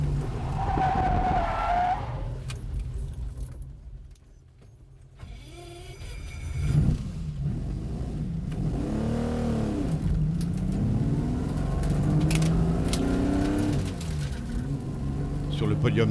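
Classic race cars at Le Mans, including a Ferrari 250 GT, roar past with loud engine noise and tyre skid, the sound swelling and fading as cars pass, with a voice talking over parts of it.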